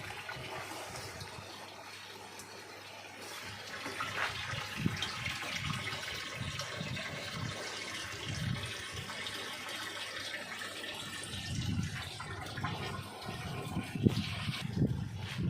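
Water from a pump runs and splashes steadily into a barrel on a peanut farm, a soft continuous pour with a low background hum.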